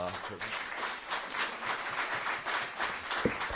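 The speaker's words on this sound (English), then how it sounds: "Please, a round of applause for" An audience at a Silver Circle award acceptance breaks into sustained applause, a dense wash of many hands clapping at moderate loudness that carries steadily throughout, with a brief thump near the end.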